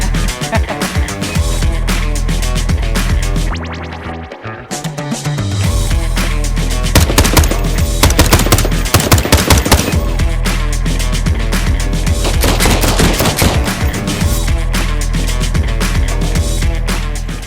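Gunfire from the video game Die Trying: dense, loud bursts of rapid shooting and heavy impacts over driving music, with a short lull around the fourth second before the barrage resumes and continues.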